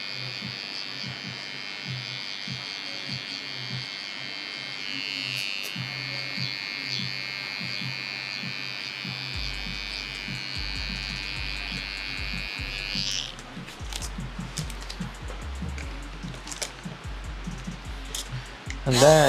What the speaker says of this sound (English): Go back with the trimmer and just clean up a little bit.